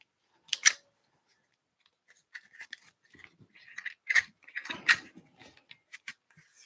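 Freshly sharpened scissors snip through a test material in a quiet room, a sharp double clip near the start followed by a run of quicker small cuts and rustles.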